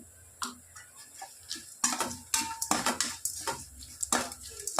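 Ingredients for coconut rice being sautéed in a pan, with a spoon scraping and clinking against the metal and a soft sizzle underneath, in quick irregular strokes heard close up and without talk.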